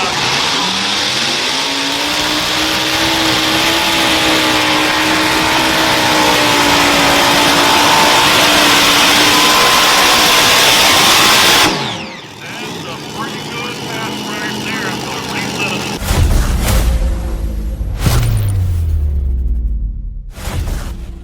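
A modified pulling tractor's engine roars loud and close with a sustained, rising howl, then cuts abruptly to quieter rumbling and a few heavy revving bursts.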